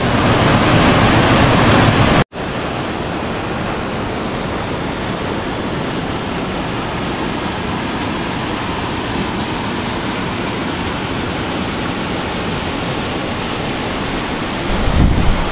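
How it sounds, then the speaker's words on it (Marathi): A steady, loud rush of water from a small spillway waterfall below Panwadi dam at Kaldari near Pune, continuous and close, with a brief cut near the start. "खूप छान असा हा धबधबा आहे।"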